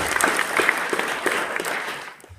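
An audience claps during a live stage show, producing a dense, steady round of applause close by that holds for about two seconds before tapering off at the end.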